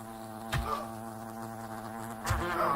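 Giant wasps buzz in the video game Fable: The Lost Chapters, a steady close insect drone with rising and falling pitch, marked by two short louder swells.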